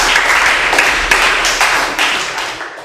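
A class of students claps together, loud and close, in a brief burst of rapid overlapping claps that tapers off within three seconds.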